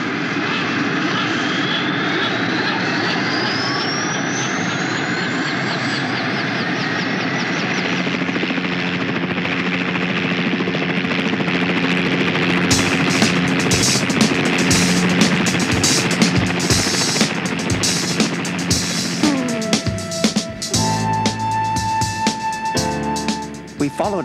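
A helicopter engine drones steadily and loudly with a rising whine early on, then rotor chopping and rattling thicken toward the end, at a remote Arctic radar station.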